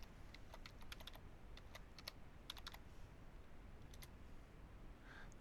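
A username being typed on a computer keyboard, quick bursts of soft key clicks in irregular clusters over a quiet background, close and without talk.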